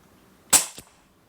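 A single sharp shot from a PP750 airsoft gun fitted with a red dot sight and a tip adapter, no moderator, close and loud, with a quick fading tail and a faint secondary knock just after.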